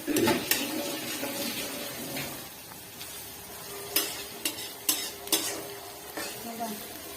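Pasta with tuna pieces stirred in a frying pan, a low sizzle under a run of sharp metallic scrapes and clinks from the utensil against the pan, several clustered near the end, with no voices.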